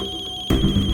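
A mobile phone ringtone breaks in loud and bright after a half-second of quieter tonal background, ringing alone at close range.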